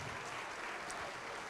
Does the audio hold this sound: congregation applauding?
yes